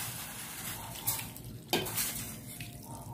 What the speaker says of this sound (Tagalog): Lagyan din natin ng tubig.